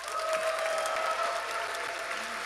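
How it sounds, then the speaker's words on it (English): An audience at a Gearbox main theatre show at PAX West 2024 claps steadily and fairly loudly for a couple of seconds, a dense even patter of many hands. "Let's have some applause for our participants"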